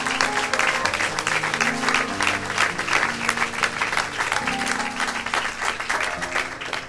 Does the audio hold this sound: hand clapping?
yes